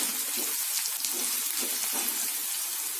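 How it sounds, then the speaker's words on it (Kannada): Chana dal, urad dal and green chillies fry in hot oil for a curd rice or lemon rice tempering, giving a steady, close, even sizzle that hisses without pause and with no voices. "ಚೆನ್ನಾಗಿ ಕಲರ್ ಚೇಂಜ್ ಆಗೋಷ್ಟು ಫ್ರೈ ಮಾಡ್ಕೊಳ್ಳಿ"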